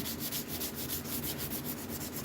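A knife blade being sanded by hand with 220 grit sandpaper, a close, steady rhythmic rasp of quick back-and-forth strokes, even and continuous throughout with no talking.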